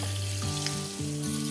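Sliced eggplant and fish frying together in hot oil, a steady crackling sizzle running throughout with a faint low hum from the kitchen beneath it.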